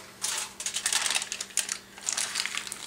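Sheet of heavy-duty aluminium foil crinkles and crackles as it is handled and pressed down over a small Egyptian bowl, in close, busy bursts with brief pauses.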